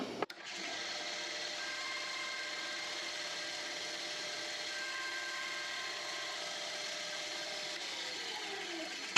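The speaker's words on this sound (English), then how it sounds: "So now we're going to take it to the bandsaw." Bandsaw making relief cuts in a wooden inlay ring, a steady, even whine and hum running unbroken for about nine seconds at a moderate, close level, with no voices.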